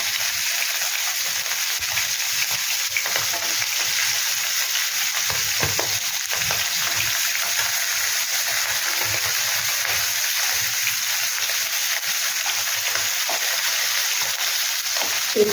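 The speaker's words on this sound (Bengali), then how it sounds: "আমার মাছ ভাজতে সত্যি বড্ড ভয় লাগে, এত ছিটে না।" Tangra fish fry in hot oil with a dense, continuous crackling sizzle and sputtering spatter, loud and close throughout without pause.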